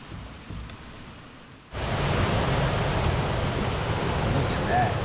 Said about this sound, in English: it's starting to rain harder now